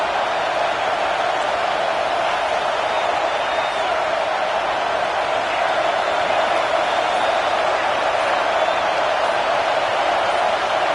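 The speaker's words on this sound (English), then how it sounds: "Here comes this home crowd as the defense tries to get off the field on third down." Home crowd roaring at a Georgia vs Clemson college football game on a third down, a loud, dense, unbroken wall of cheering that holds steady for the whole stretch.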